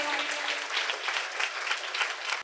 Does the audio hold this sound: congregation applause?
yes